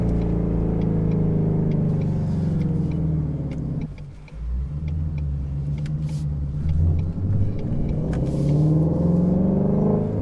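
A Mustang GT350 engine drones loud and close, dips briefly, then blips and climbs again in rev-matched downshifts, a deep rumbling note rising and falling with no talking.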